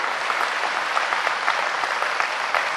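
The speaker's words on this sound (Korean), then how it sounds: "좋거든 박수 한번 해보라고" Dense, steady applause from a large audience at a religious sermon gathering, continuous and fairly loud throughout with no talk over it.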